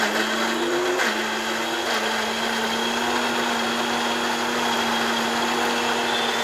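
An electric blender runs continuously while grinding ginger and garlic, a loud, steady high-pitched motor whine with a slight dip in pitch as the load settles, with no talk over it.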